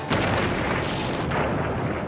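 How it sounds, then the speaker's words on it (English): A huge explosion roars in a continuous loud blast, rumbling and crackling for the whole stretch without letting up. "it's the biggest explosion yet"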